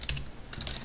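Fingers type code on a computer keyboard in two short bursts of crisp clicking key taps, close up and fairly quiet, with a brief pause between.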